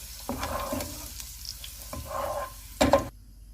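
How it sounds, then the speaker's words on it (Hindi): Raisins frying in a pan, a soft sizzle with a few stirring scrapes in bursts and a sharper clatter near the end before it cuts off. "इसमें हम किशमिश डालेंगे और इसको चंद सेकंड के लिए फ्राई करेंगे।"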